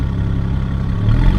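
A BMW 335i idles with most of the perforated pipe cut out of its exhaust, giving a steady, deep low rumble up close. The rumble swells slightly toward the end.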